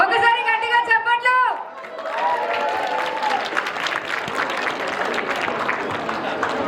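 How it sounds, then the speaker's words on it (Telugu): Applause from an audience at a Ugadi celebration right after a dance troupe's classical and western performance, a dense, steady clapping that swells after a brief talking voice at the start and keeps going with crowd chatter mixed in. "ఒకసారి గట్టిగా చప్పట్లు."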